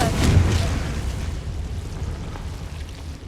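Confringo blasting spell in Hogwarts Legacy going off as a loud, close boom with a rumbling decay that fades over a few seconds.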